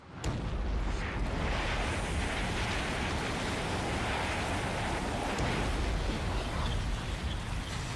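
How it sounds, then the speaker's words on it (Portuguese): Eyjafjallajökull volcano in Iceland erupting and hurling pulverized rock into the air, a massive continuous roaring rumble that starts abruptly and holds loud and dense throughout, with no voices. "O Eyjafjallajökull, na Islândia, explodiu para a vida e lança mais de 750 toneladas de rochas pulverizadas no ar a cada segundo."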